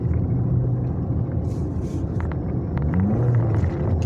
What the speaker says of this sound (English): God, sometimes this car just doesn't accelerate.